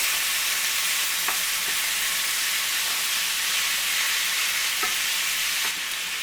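Ground beef browning in a pan for shepherd's pie, a loud, even hissing sizzle held throughout, with a couple of faint clicks of a utensil.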